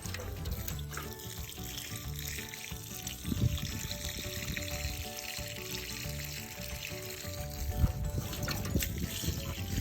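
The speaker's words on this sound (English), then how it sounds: "And I'm just going to water them in." Water is poured from a 2-gallon pitcher onto container-grown pepper plants, making a steady, continuous splashing and trickling that runs for about ten seconds without speech.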